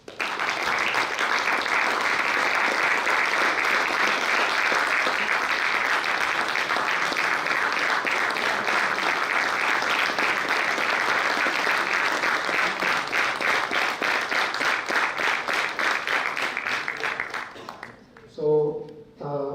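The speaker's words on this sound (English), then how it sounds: "So I request for a big round of applause for it." Prolonged audience applause at a college festival prize presentation, a steady roar of clapping with a voice speaking under it, tapering off before speech resumes at the end.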